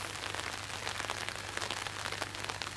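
Steady rain falls outdoors over a garden plot where corn seedlings are being replanted, a continuous dense patter with no talking, accompanied by a low constant hum underneath.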